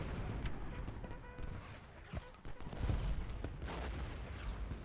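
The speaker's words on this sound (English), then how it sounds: "The artillery crossfire's too much. Just shredding Confederate gunners." Cannon and rifle fire from the Civil War video game Ultimate General Gettysburg, a dense, continuous battle din of booming artillery and crackling musketry with scattered sharper blasts, heard at moderate distance.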